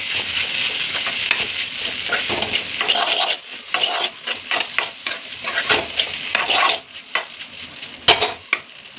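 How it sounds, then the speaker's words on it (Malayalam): Chicken pieces stirred in a hot frying pan for a homestyle egg rice, with a spatula scraping and clacking in irregular strokes over a steady sizzle, close and loud. "ഇളകി കൊടുക്കാം"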